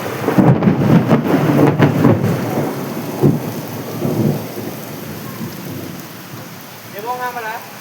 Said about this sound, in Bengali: তো এখন হচ্ছে বৃষ্টির ওয়েদার।